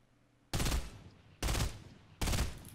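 Three loud, separate gunshots ring out in Fortnite, evenly spaced less than a second apart, each a sharp crack trailing into a short echoing decay over a quiet background.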